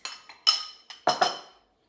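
Pistachio cream pasta being mixed in a Thermomix TM7 bowl, heard as a few sharp clinks and knocks in quick succession, fairly close and clear with no talking.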